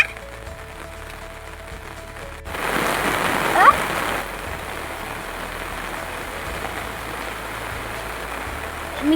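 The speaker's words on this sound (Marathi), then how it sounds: "बघा आता खूप पाऊस येणार आहे" Rain falls steadily in a village, a broad even hiss of drops that rises suddenly after a couple of seconds and continues unbroken, with faint voices in the background.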